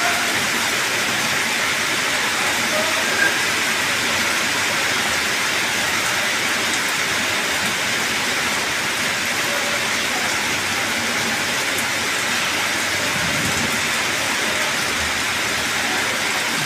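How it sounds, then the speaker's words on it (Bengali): Steady rain patters on a tin roof, an even, unbroken hiss that lasts throughout with no voices over it. "দেখতে পাচ্ছেন অনেক দূরে বৃষ্টির ফোঁটা পড়ছে"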